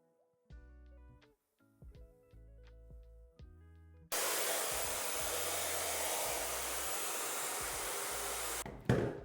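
A hair dryer blows hot air onto hair during a bouncy salon-style blowout, switching on abruptly to a loud steady close roar after soft brushing and handling noises, then a brief clatter near the end.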